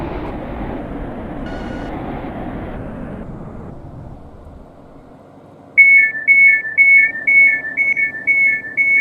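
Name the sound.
Class 331 train in video game Stepford County Railway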